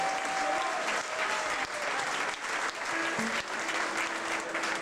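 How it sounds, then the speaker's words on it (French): A concert audience at a band's musician introductions claps steadily and loudly throughout, a dense even wash of applause with faint voices underneath. "je vous demande si vous allez m'applaudir"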